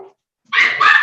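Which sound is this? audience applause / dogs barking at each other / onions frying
dogs barking at each other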